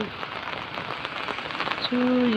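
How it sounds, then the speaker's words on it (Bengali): Heavy rain falls on a wet village road on a rainy morning, a dense, steady patter close by, with a brief whistle-like tone near the end. "অনেক বৃষ্টি আসতেছে তো রাস্তাঘাট অনেক ভিজা"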